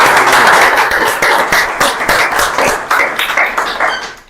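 Loud, dense audience applause from a crowd gathered for a session on mechatronics careers, many hands clapping steadily and close for about four seconds with no voices over it.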